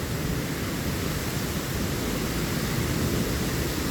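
A heavy rainstorm pours down in a dense, steady roar of hiss that stays loud and unbroken throughout.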